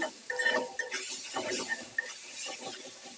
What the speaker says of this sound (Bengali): এই তো এইভাবে কিন্তু ভালো করে আমি কষিয়ে নিচ্ছি